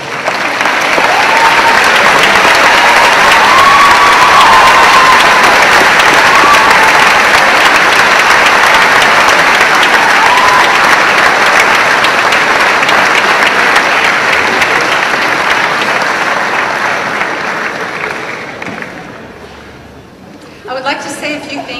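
Sustained applause from an audience at a school awards assembly in Singapore, a dense steady wash of clapping that runs loud for most of the stretch before tapering off near the end, with voices faintly mixed in.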